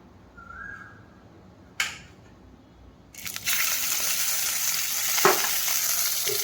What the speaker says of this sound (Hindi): टमाटर काटिदेले टमाटर टिके भाजीदबा।